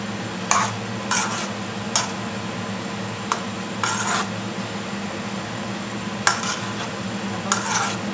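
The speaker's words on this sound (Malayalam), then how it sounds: "ഇളക്കി കൊടുക്കുക. മസാലയുടെ പച്ചമണമൊക്കെ നന്നായിട്ടങ്ങ് മാറട്ടെ." Spiced masala stirred in a pan, heard as sharp, irregular metallic scrapes and clinks of a spoon against the pan over a quiet, steady background hum.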